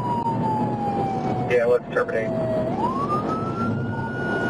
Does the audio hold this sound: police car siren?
yes